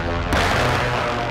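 Air strike blasts and gunfire in Call of Duty: Modern Warfare II erupt as a sudden loud, dense barrage, with a steady low rumble and crackle running beneath, close and continuous.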